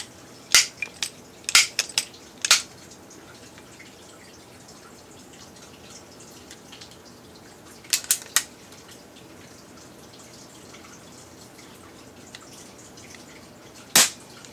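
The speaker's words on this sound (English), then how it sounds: "Shooting 3 pellets of the RWS Super Point, since they seem to be decently consistent in these guns." Crosman multi-pump air rifle loaded with RWS Super Point pellets, a few sharp mechanical clicks and snaps spread out in brief clusters, close by against a quiet background with no talking.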